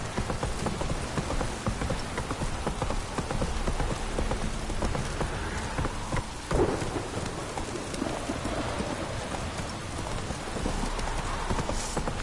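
In The Witcher 3 video game, a horse's hooves gallop in a fast, continuous clip-clop close by, with rain and rumbling thunder in the background.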